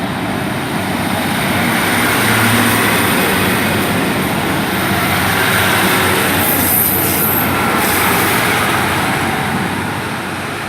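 Class 153 and Class 150 diesel trains pull out of Torre station together, a loud, steady broad rumble of engines and wheels that swells and holds throughout, with no speech.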